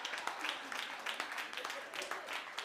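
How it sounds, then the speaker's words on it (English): Audience applause at an International Women's Day event, fairly faint and distant, a steady patter of clapping with slight swells, probably with some talk underneath. "Let's give her a round of applause."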